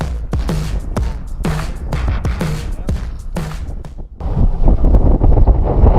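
Heavy wind buffeting a microphone outdoors on a boat, a loud low rumble with gusts that swell stronger toward the end.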